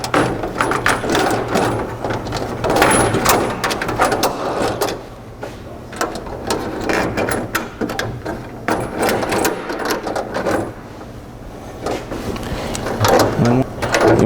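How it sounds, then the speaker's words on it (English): Plastic expander clips on a Putco bug shield snap into the truck's mounting holes, with sharp clicks repeating along a steady stretch of workshop handling and mechanical rattling. "you can hear it clip out as soon as it's fully engaged"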